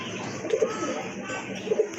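A pair of large pigeons coo in soft, low, doubled calls, one early and one near the end, heard close over a light background hum.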